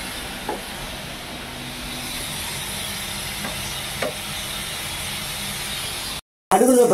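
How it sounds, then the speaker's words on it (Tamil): A steady hiss of cluster beans frying in hot oil, with a few soft clinks of a utensil stirring the pan. "இப்போ கொத்தவரங்காய் பொரிக்கணும்."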